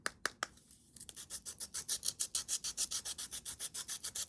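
Rapid, rhythmic rubbing strokes as a charcoal-covered blending stump is cleaned on a gritty sanding pad, starting with a few sharp scratches and then settling into a fast, steady back-and-forth.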